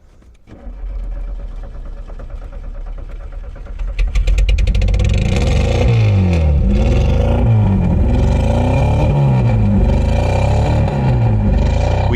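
A Zhiguli car's engine, on a convertible conversion with manual gas control, starts and idles roughly, then jumps to a loud, close, sustained revving with repeated rises and falls in pitch.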